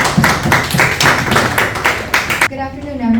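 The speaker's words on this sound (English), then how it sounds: "Round of applause for this group for presenting." A classroom audience claps for a group that has just given a presentation in an entrepreneurship lecture, with steady, fairly close clapping for about two and a half seconds before a voice begins speaking.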